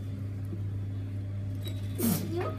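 One short, sharp human sneeze bursts out over a steady low machine hum in a quiet indoor workspace, heard alone without talk.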